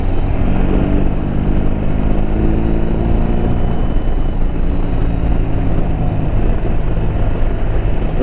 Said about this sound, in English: But this boxer motor is legendary.